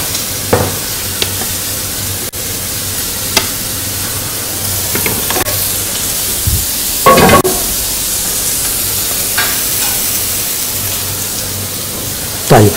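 Kofta sizzles steadily on a grill, a constant frying hiss with occasional crackles and pops, close and fairly loud, with no talking.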